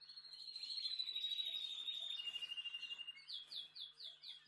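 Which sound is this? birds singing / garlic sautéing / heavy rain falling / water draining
birds singing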